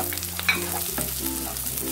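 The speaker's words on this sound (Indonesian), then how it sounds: "Tumis sampai layu." Spring onions being stir-fried in a pan for sweet and sour shrimp, a steady close sizzle broken by scraping stirs and a brief clatter near the middle, with no talking.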